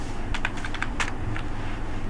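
Computer keyboard keys pressed during data entry in Tally ERP 9 accounting software, a quick run of light, crisp clicks close by over a low background hum.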